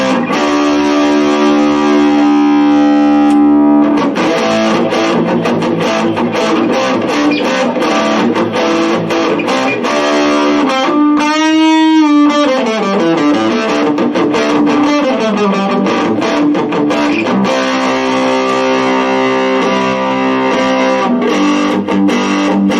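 An electric guitar with very high output pickups plays heavily distorted through an Orange Crush 10 amp and a Boss GT-100 pedal board. Sustained, saturated chords ring loud and continuous, with a brief sliding, swelling passage in the middle and no voice.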